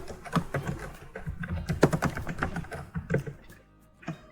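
Computer keyboard typing while working in Tally Prime accounting software, a quick irregular run of close, light key taps and clicks with no talk.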